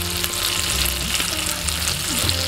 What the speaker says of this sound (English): those mustard seeds are starting to pop a bit now